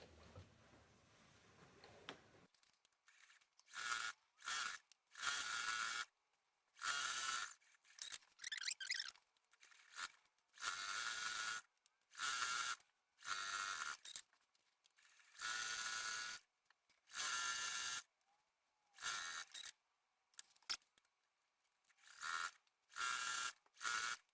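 A home sewing machine quilts along block lines, running in a long series of short, regular stitching bursts separated by quiet pauses, fairly soft and close.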